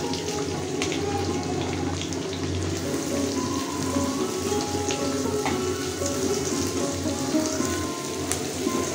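Chopped onion and garlic fry in hot oil for a dried loitta fish dish, giving a soft, continuous crackle and sizzle, fairly quiet and steady like light rain.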